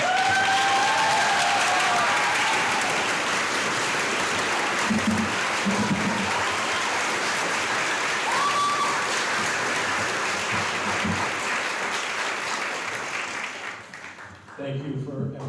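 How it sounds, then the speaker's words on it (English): Sustained applause fills a graduation ceremony, a dense steady clapping from a large crowd with a few cheers, fading out near the end as a voice begins to speak. "How about one more round of applause?"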